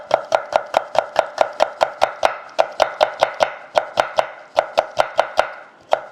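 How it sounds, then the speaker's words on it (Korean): A knife thinly slices red bell pepper on a cutting board, making a fast, even run of about thirty crisp, close taps with one brief pause and no talking. "이렇게 얇게 썰어서 준비해 주세요."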